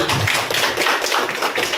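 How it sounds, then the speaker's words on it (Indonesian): Audience applause, dense continuous clapping from a crowd filling the short stretch at steady loudness with no voices. "Tepuk tangan untuk Bapak Ibu semua."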